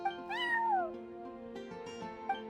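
A cat named Charcoal meows in Genshin Impact, a single drawn-out, rising then falling call over a steady musical backdrop, with softer meow-like inflections trailing after it.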